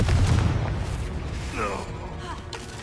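Confringo spell blast in the Hogwarts Legacy video game, a heavy booming explosion that opens loud and decays into rumbling debris, with a short voice line partway through.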